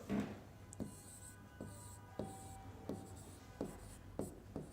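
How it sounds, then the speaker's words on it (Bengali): A pen writes a line of a maths exercise by hand on paper, a soft, close scratching with regular small taps as each word is formed, quiet and alone over faint background hum. "আমরা এখন এই লাইনটি লিখব"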